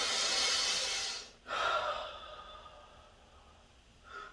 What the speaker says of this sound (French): on prend une respiration.